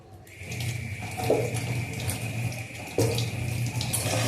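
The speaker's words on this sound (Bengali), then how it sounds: "আবার ভালো করে আবার ধুয়ে নিচ্ছি" Puja utensils being rinsed under running tap water, a steady close stream splashing into a sink with small shifts as items move through it, no talking.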